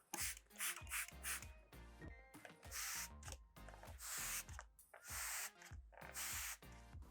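A spray bottle fires many quick hissing squirts of water onto wooden end grain cutting boards in an uneven rhythm, close and fairly loud, each spray followed by a short pause.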